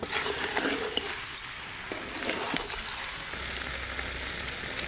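Mutton sautéing in a hot pan, a steady close sizzle with occasional scraping stirs, continuous and fairly quiet with no voices.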